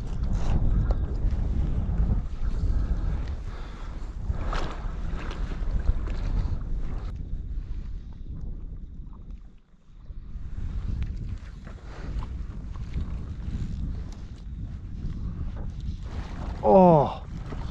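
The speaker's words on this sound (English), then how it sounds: "where all this wind funnels off this kind of point here" Wind blowing across a lake point while fishing from a float tube, a continuous rough gusting rush buffeting the microphone, with a brief dip midway.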